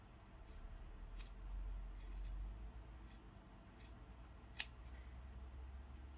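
Scissors snip through hair during an at-home wolf cut, a few faint, close crisp cuts spaced irregularly, with one sharper, louder snip near the end over a low background hum.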